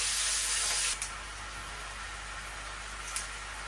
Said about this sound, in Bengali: আর এখানে আছে কালো জিরে আর সাদা জিরে ফোড়নে দিয়ে দিব। ভেজে নিব